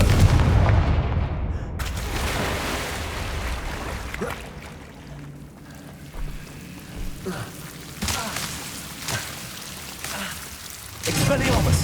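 Fire spells cast in the game Hogwarts Legacy, heavy booming blasts and crackling bursts with rumbling tails, loud and close, with game sound and voices mixed in.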